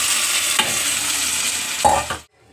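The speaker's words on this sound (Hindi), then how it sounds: "इसमें हम कासी फल डालेंगे।" Khansi fruit stirred in a hot pan, a steady close sizzle with scraping strokes of the spoon that cuts off abruptly near the end.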